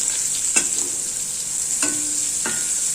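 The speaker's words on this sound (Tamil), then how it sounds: "கொஞ்சம் நல்லா வறுபடட்டும்" Dried turkey berry vathal roasting in sesame oil in a pan: a continuous close sizzle with three sharp spatula clinks against the pan, spaced irregularly.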